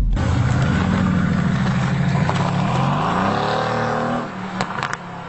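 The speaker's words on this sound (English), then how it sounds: "So we've got the sports exhaust valves open." Mercedes-AMG engine with its sports exhaust valves open, heard from inside the car as it revs and accelerates in a rising, throaty drone, then settles back down with a few crackles and pops at the end.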